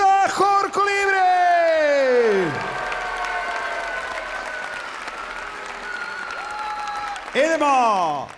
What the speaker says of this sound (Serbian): još jedan veliki aplauz za Hor Kolibre!